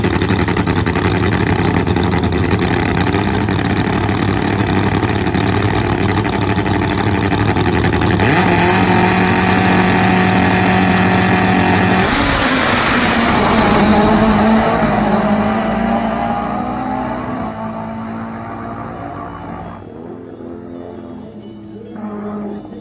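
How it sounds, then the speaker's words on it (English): Two Top Fuel nitro-burning drag motorcycles race side by side, a loud sustained harsh engine roar at full throttle that fades away as the bikes run down the strip. "2 nitro burning motorcycles."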